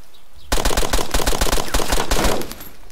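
Rapid, loud bursts of shots in DayZ, attributed to a Blaze double rifle, ring out close and evenly spaced for about two seconds after a quiet start, then fade into a brief echoing tail.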